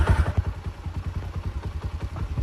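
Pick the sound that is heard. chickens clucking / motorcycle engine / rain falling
motorcycle engine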